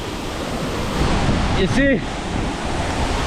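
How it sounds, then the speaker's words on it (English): Rushing waterfall water pouring against a bather standing in the current during autumn bathing, a loud steady roar close to the microphone, with a brief spoken remark in the middle. "Unfortunately, I disturbed the current of the water flow."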